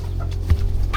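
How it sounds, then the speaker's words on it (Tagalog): Chickens clucking close by at a rural Philippine home, a short burst of low clucks with no talk over them. "May mga manok din."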